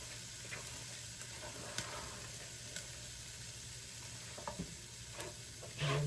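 Beef and onions sizzle steadily in a hot pan as fresh tomato goes in, with faint stirring scrapes and a soft continuous frying hiss, close and fairly quiet.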